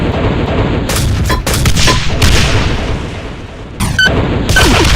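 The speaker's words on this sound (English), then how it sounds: "In close range, it can fire dual volleys of grenades" Cyberdemon in a Doom mod firing dual volleys of grenades: a string of loud, heavy booms and blasts, several sharp bursts in quick succession with brief gaps, close and dominant.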